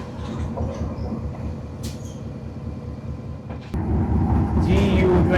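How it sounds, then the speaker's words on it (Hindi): The Khushal Khan Khattak Express, running from Karachi to Peshawar, rolls slowly, heard from the guard's cabin at the rear. A steady rumble of wheels and carriage rises noticeably partway through, with no clear speech. "अभी तो धीमी रफ्तार से चल रही है गाड़ी"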